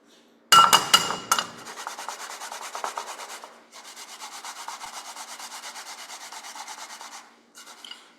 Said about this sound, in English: using a microplane, we're gonna grate this up